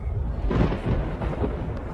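Deep thunder rolls as a sound effect during a Bible reading, a heavy, loud rumble sustained for about two seconds with a swelling crest midway and no voice over it.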